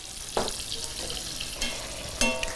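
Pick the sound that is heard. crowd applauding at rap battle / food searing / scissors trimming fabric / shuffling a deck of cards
food searing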